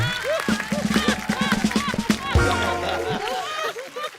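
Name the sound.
studio audience applause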